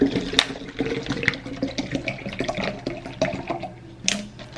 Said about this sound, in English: Now it's time to add water. 2 water bottles here.